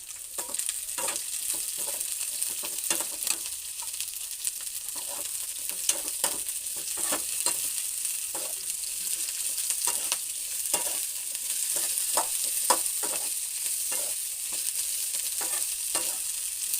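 A wild monsoon vegetable fries in a hot pan over a high gas flame, a steady close sizzle broken by frequent stirring scrapes, no voices.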